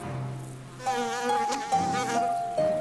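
A parasitic wasp buzzes close by near a cabbage leaf, a loud, wavering whine that keeps shifting pitch for a few seconds.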